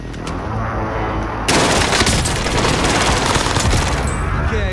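Rapid automatic gunfire in Warzone Rebirth starts suddenly after a quieter opening and continues as loud, dense bursts to the end.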